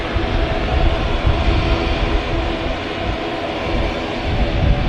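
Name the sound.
Star Alliance special livery airliner at Manchester Airport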